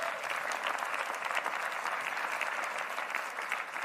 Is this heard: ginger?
no